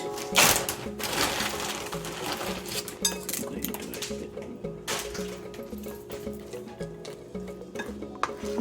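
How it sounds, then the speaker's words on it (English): Banana bread batter with chocolate chips and walnuts stirred in a bowl, a spoon scraping and clinking against the sides in an uneven rhythm, close and moderately quiet. "Mix it."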